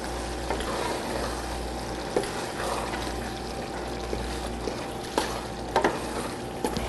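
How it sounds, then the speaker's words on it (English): A spoon stirs a pot of homemade comfort food over the heat. Soft scraping clicks and light taps sound every so often over a gentle, continuous simmering sizzle. "give this a stir"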